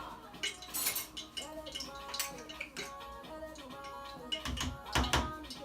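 Close clinking and scraping of a utensil against a pot while mixing paste for jollof rice, irregular taps and stirring strokes repeating throughout, with no voices.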